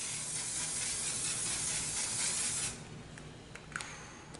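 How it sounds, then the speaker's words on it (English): An aerosol can of makeup setting spray releases a continuous close hiss for under three seconds, followed by quieter rustling and small clicks. "So it does have like the aerosol can."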